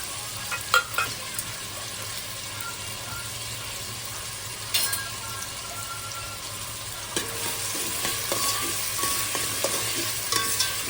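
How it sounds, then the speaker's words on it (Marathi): Chopped onion and whole spices fry in a pan with a steady, close sizzle, broken by occasional scraping stirs and clinks throughout. "कांदा मिक्स त्यासोबत खडा मसाला आणि हे सगळे खडे मसाले टाकते"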